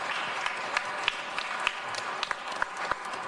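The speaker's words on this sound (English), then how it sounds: "let's please give a round of applause" A community meeting audience at the Los Angeles Police Commission claps for three Black city councilmen, a steady, moderately loud round of applause from a mid-sized crowd with scattered sharper claps throughout.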